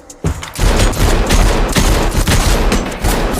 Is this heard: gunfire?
yes